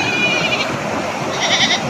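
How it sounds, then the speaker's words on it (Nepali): Goats being herded along, bleating with wavering, nasal cries; one call near the start and a louder overlapping cluster toward the end over a steady outdoor background. "बाख्राहरू लिएर आइरहेको छ"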